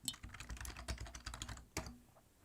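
Someone types on a computer keyboard at close range, quick irregular clicks in bursts with a short pause and a final firm keystroke, no talking.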